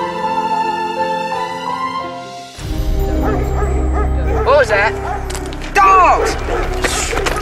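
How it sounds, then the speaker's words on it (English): Several dogs barking and yipping in an adventure film scene, sharp repeated barks rising out of a rumbling, noisy background, mixed with people's voices. "Dogs!"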